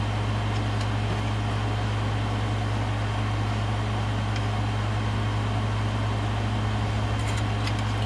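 A workshop air conditioning unit runs steadily throughout, a constant low hum with broadband hiss and no voices, loud and close.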